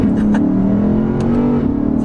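A 2020 Lexus RC F Track Edition engine drones steadily from inside the cabin under manual paddle shifts in Sport Plus mode, with a brief dip near the end.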